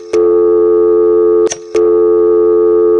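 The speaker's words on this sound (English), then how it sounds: "The dial tone would keep right on going as if you hadn't dialed anything." A landline dial tone drones on steadily, briefly broken by a short click and pause from a single dialed 1, then resumes unchanged as if nothing was dialed.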